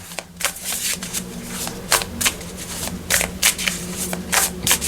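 An oracle card deck is riffled and shuffled by hand, producing a rapid series of crisp, papery flutters and slaps in close, uneven bursts, with no speech.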